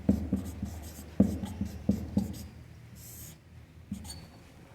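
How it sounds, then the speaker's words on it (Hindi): Someone writes out a linear equation in two variables by hand, with a close series of sharp taps and short scratching strokes in uneven bursts separated by brief pauses, and no talking. "अब हम लिखेंगे प्रश्नानुसार"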